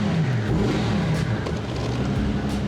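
A Mercedes S600 with a twin-turbo V12 revs in a steady, loud, close-up roar with no one speaking over it.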